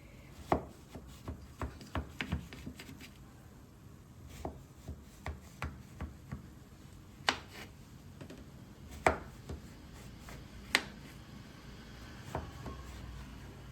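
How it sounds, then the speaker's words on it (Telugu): A knife cutting set Mysore pak into pieces, a series of soft, separate taps and scrapes against the tray, irregularly spaced and fairly quiet, with no one speaking. "మనకు కావాల్సిన సైజుల్లో కట్ చేసుకోవాలి"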